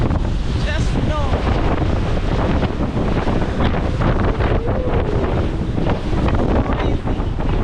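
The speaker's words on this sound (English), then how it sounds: "look, the waves are strong" Strong wind and waves buffet a boat on Lake Victoria at night, a loud, constant rushing roar with wind gusting on the microphone and water splashing against the hull.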